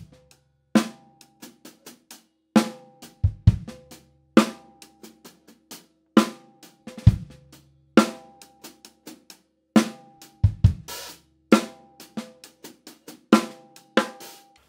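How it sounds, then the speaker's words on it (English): A drum groove with ghost notes moved from the left hand onto the left-foot hi-hat: crisp snare backbeats and low kick hits over a steady pattern of soft foot-hi-hat chicks, played alone with nobody speaking. "basically we're just gonna put every single ghost note on the left foot instead of the left hand."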